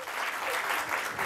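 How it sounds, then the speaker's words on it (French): Brief burst of audience applause at a live show in Bordeaux, a dense, even patter of many hands clapping at moderate volume with no speech over it. "Des applaudissements d'abord."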